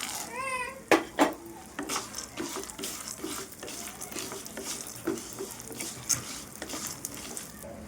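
Peanuts, coriander seeds and sesame seeds tumble into a pan while making curry leaf podi, giving a couple of sharp clattering rattles early on, then lighter scattered scraping and stirring taps against the pan.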